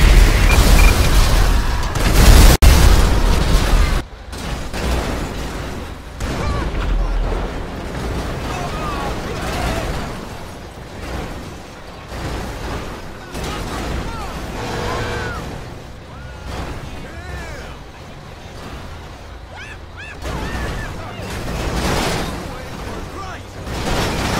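Explosions and vehicle chaos in the video game GTA V on PS4, heavy booming blasts at the start giving way to a sustained rumbling din of crashes and bursts, with a voice heard at times.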